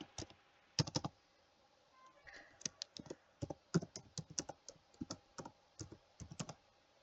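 Fingers typing a password on a computer keyboard, crisp close key clicks in irregular bursts with brief pauses between groups of keystrokes, fairly quiet and with no speech.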